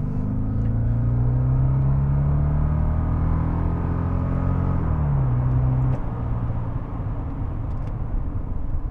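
A 1970s Mercedes-Benz 450 SEL 6.9 V8 saloon pulls hard under acceleration, its deep engine drone climbing steadily and then shifting down in pitch, heard from inside the car with a constant low rumble and no talking.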